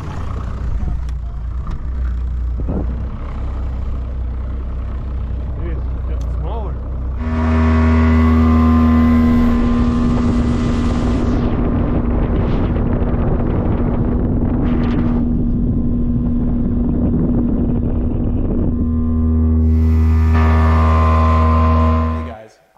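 Outboard motor on a fishing boat on the Missouri River, engaged in gear and surging to a loud, steady drone with strong wind buffeting, dropping back briefly before throttling up again; voices talk early on.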